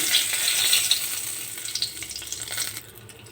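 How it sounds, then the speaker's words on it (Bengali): Whole cumin, two bay leaves and a dried red chilli fry in hot oil, giving a bright, steady sizzle with light crackles that fades slightly toward the end. "এই তেলের মধ্যেই পরিমাণ মতো গোটা জিরে দিয়ে দিলাম দুটো তেজপাতা দিয়ে দিলাম একটা শুকনো লঙ্কা দিয়ে দিলাম"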